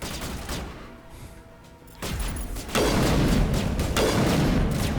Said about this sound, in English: He won't come up to fire if you just get him a constant barrage of bullets.